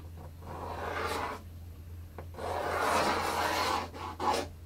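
Pencil drawing the neck outline for a guitar on wood, close scratchy rubbing strokes in several bursts with short pauses between them, no talking.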